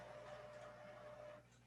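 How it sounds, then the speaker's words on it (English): A home-office printer runs with a soft mechanical hum and a faint ticking rhythm, quiet and brief, easing off near the end. "Why is my printer going off?"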